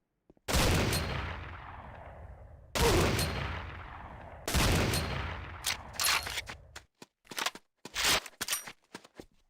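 Gunfire on a firing range in the Renegade training tutorial: three loud, long-decaying shots spaced a couple of seconds apart, followed by a rapid ragged burst of shorter cracks and clicks.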